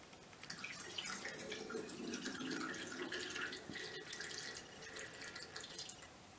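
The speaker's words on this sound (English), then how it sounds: "So I am going to fill the bottle up using my funnel." Water trickles and splashes faintly through a funnel into a bottle, a soft continuous pouring with light dripping, quiet and close with no talking.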